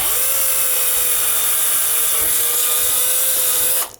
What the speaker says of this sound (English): So we'll drill a hole there.